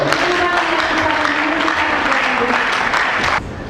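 A church congregation applauds and cheers the Lord during a pastor's sermon, loud sustained clapping from a large crowd with voices mixed in, cutting off abruptly near the end.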